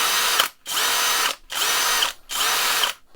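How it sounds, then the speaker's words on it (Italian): A Parkside 12V cordless drill driver spins freely with no load in three steady whirring bursts, each nearly a second long, separated by brief silent pauses. "solitamente nessuno passa il tempo a far ruotare un avvitatore a vuoto"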